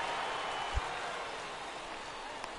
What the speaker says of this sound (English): It's raining cats and dogs out there.